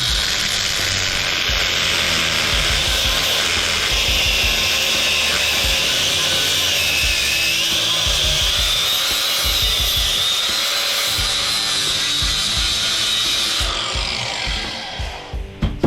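A power tool grinds and cuts through a scrap copper fitting, a continuous loud harsh buzz with rapid chattering, trailing off at the end.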